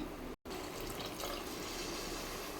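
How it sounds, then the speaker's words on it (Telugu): Water pours from a glass into rice for plain kushka, a soft, continuous, faint splashing rush after a brief break at the start. "సో 2 గ్లాసెస్ వాటర్ వేస్తాం"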